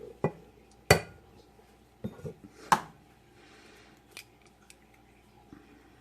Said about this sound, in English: So first we're going to separate our eggs.